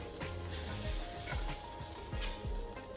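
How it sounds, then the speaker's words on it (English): Eggs frying in coconut oil in a pan give a steady close crackling sizzle throughout, with a few soft utensil knocks spaced through it. "I'm using coconut oil again to fry my egg"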